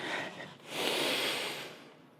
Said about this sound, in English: let's start by taking a deep breath together